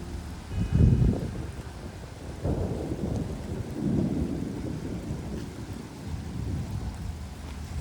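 Typhoon storm on an island in Asia, with deep rolling thunder booming near and loud, then lingering rumbles over steady wind and rain noise.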